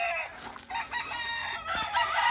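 Pata Blanca gamecock roosters, tethered at a Puerto Rico breeding yard, crow in overlapping calls, one nearby and others farther off, with faint clucking between crows.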